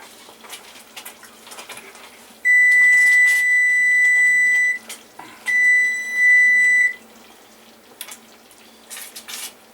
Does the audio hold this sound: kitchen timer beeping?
yes